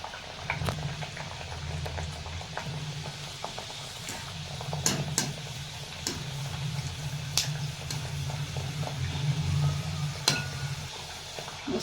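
Tilgul poli frying in medium-hot oil in a kadhai, a steady bubbling sizzle with scattered pops and crackles, close and continuous without talk.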